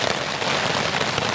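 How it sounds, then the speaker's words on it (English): Heavy, torrential rain drums on a Vango Banshee 200 tent pitched in a sheltered coastal wild camp, making a dense, unbroken hiss of countless close impacts. "There's nothing as nice as listening to the sound of the rain on the tent."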